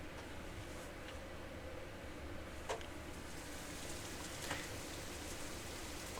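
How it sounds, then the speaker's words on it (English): Steady rain falls as an ambient sound effect in the visual novel Katawa Shoujo, a soft, even hiss with no talk and only a couple of faint taps rising above it. "Raining."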